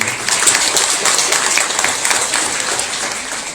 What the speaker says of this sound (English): can I please request all of you to give a big round of applause for them